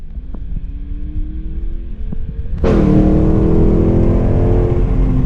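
A supercharged 5.7-litre Hemi V8 car idles and hums at low revs, then suddenly opens up into a loud, sustained roar as it accelerates hard, the engine note climbing steadily with no talk.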